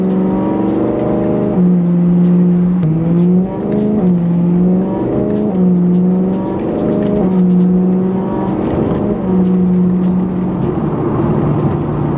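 A BMW E90 M3 engine revs repeatedly to around 3,000 RPM, its loud steady drone rising and falling in pitch from inside the car.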